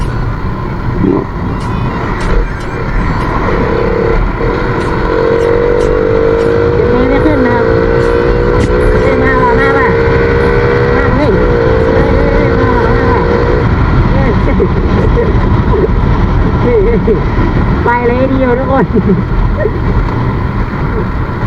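A car engine pulls through a test drive, with a loud, steady drone and a rising, shifting engine tone, while someone talks over it throughout.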